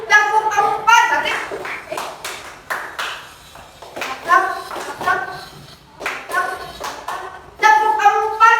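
A group of children clap their hands in counted rhythm in a classroom, sharp bursts of claps in clusters of varying counts, mixed with a teacher's and kids' voices talking and calling out numbers between them.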